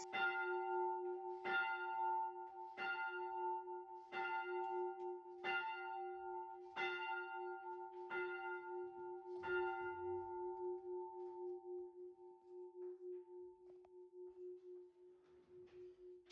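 A bell at Oxford's Duke Humphreys library sounds closing time with seven evenly spaced, ringing chimes, each sustaining a clear tone that lingers and slowly fades after the last strike, heard alone in a quiet room.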